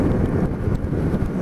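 Strong wind blowing outdoors: loud, continuous buffeting rumble across the microphone with little variation and no voices.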